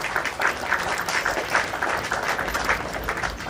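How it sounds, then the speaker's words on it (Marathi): An audience at a daughter's birthday celebration applauds, a dense, steady patter of many hands clapping together from nearby throughout, with a few voices faintly underneath. "मी सांगतो गणेश आणि त्यांच्या धर्मपत्नी करता टाळ्यांचा गजर झाला पाहिजे"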